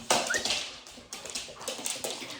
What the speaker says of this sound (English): The dog's gonna play.